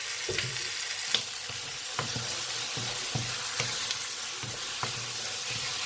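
Fried rice is stir-fried in a wok with little oil: a steady close sizzle with rhythmic scraping strokes of the spatula roughly every half second, no talk.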